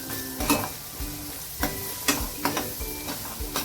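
Masala with onion for a soybean curry sizzles in a pan while being stirred, with steady frying hiss and repeated scraping strokes of a spoon, close and loud without talk.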